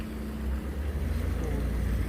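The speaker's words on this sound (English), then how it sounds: "And this boat's called the Winthorpe." The boat Winthorpe moves through Bosley Locks with a steady, low engine rumble, mixed with wind and water noise and no break across the short stretch.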